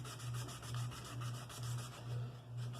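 Steady back-and-forth sanding of a Marlin 336 rifle action, a rhythmic rasping rub repeating about twice per second, close up with no voices.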